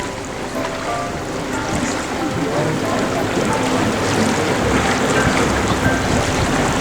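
Broadband rushing water and engine churn from boats moving along a canal in Bruges, steady and fairly loud, with wind noise and no clear talking.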